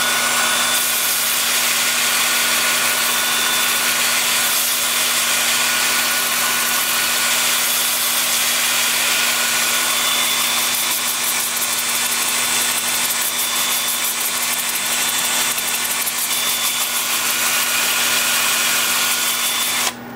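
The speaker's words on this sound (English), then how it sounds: "with the lathe spinning forward at about 350" Wood lathe turning forward at about 350 rpm, a loud, continuous, even whir with a steady hum that holds unbroken throughout.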